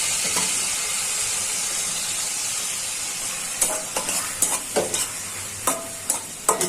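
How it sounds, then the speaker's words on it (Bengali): Onions frying in hot oil give a steady loud sizzle and hiss, with several sharp stirring scrapes of a spoon in the pan toward the end. The dish is a Bengali golsha/tengra fish curry with tomato, eggplant and potato. "গরম থেকে পেঁয়াজ ছেড়ে দিচ্ছি।"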